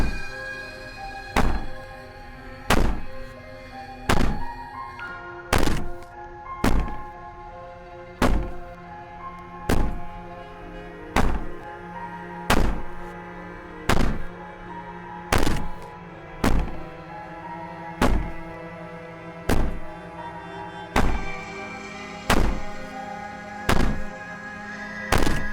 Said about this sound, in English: Maybe the banging and wailing will stop if you just don't pay attention